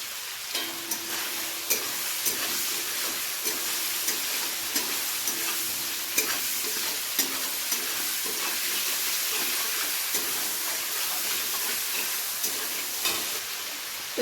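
Tomatoes fry with salt in a pan, a steady close sizzle and hiss broken by regular scraping clicks of a utensil stirring.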